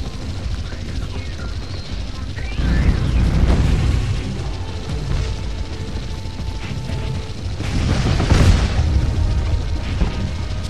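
Explosions boom in the video game Project Root, deep rumbling blasts that surge twice over a dense, continuous backdrop of game noise and whirring.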